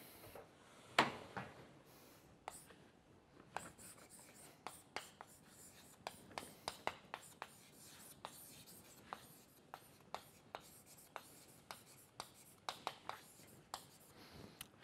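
Chalk or marker writing on a board in a tropical geometry lecture, a series of quiet close taps and strokes in an irregular rhythm against a soft room background, with faint breathy murmurs.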